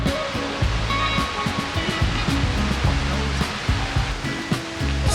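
The river at the Rivière Malbaie campsite in Parc national des Hautes-Gorges-de-la-Rivière-Malbaie rushes past close by, a constant loud roar of flowing water with uneven bursts of turbulence throughout.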